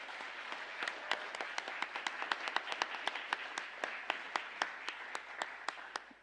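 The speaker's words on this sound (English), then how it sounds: "Can we please give them all a round of applause?" Applause from an audience at a parliamentary anniversary event honouring migrant and refugee women, a steady patter of distinct claps filling the room for several seconds, moderately loud and without talk.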